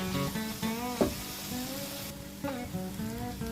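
Chicken gizzard and liver pieces are stirred in a hot pan, sizzling steadily close by while a spoon scrapes and clinks against the metal in irregular strokes.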